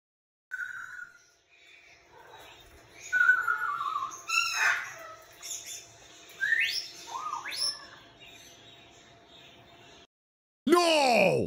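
A pet bird whistles and chirps in a varied series of calls, some rising and swooping like robot beeps, with brief pauses between bursts and a louder sweeping whistle at the end, heard close and alone.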